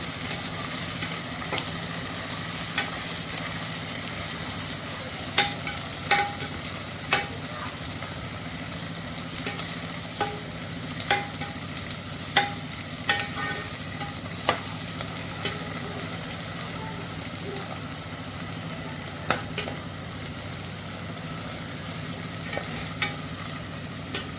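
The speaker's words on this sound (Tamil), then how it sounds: "ஆனியன் ஆட் பண்ணிவிட்டு நல்லா மிக்ஸ் பண்ணிட்டு இருங்க." Onions frying in oil for chicken dum biryani while being stirred, a steady low sizzle running throughout with regular sharp scrapes and clinks of the spoon against the pan, fairly close and without talk.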